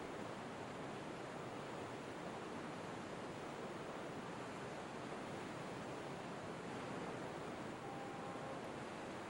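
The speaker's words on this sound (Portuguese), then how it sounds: "o rio corre ferozmente enquanto desce até o Lago Ontário, 55 metros mais abaixo" The Niagara River rushes fiercely through its gorge downstream of the falls toward Lake Ontario, a dense, steady broadband roar of fast water with no breaks, heard alone.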